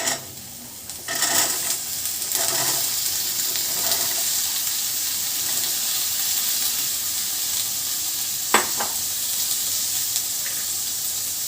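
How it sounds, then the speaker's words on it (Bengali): Peas tipped into frying mutton keema set off a bright, steady sizzle, loud and close, with a few sharp clatters and scrapes of the spoon against the pan and no talking. "কিমাটা ওর মধ্যে ভালো করে ভাজা হয়ে গেছে। এবার ওতে মটরগুলো দিয়ে দেব"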